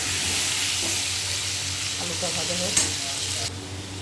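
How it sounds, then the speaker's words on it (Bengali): Potato pieces fry in hot oil and are stirred in a pan, a close, continuous sizzle with scraping stirs and occasional pops. "আলুটাকে ভেজে নেব। আলুটাকে ভেজে তুলে রাখবো।"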